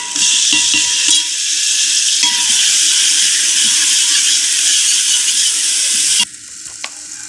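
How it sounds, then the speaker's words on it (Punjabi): Chopped tomatoes go into browned onions frying in a pan, producing a loud, steady sizzle with a few stirring scrapes. The sizzle drops sharply near the end. "ਜਦੋਂ ਆਪਣੇ ਪਿਆਜ਼ ਬਰਾਊਨ ਹੋ ਗਏ ਤੇ ਉਦੋਂ ਆਪਾਂ ਪਾਵਾਂਗੇ ਨੂਨ ਮਿਰਚ ਹੁਣ ਆਪਾਂ ਪਾਵਾਂਗੇ ਟਮਾਟਰ ਕੱਟਿਆ ਹੋਇਆ"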